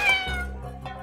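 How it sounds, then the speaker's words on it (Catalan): A hungry cat gives a single close, loud meow, drawn out and falling in pitch, with a short second rise at the end. "El pobre gat no té menjar i s'està fotent de gana."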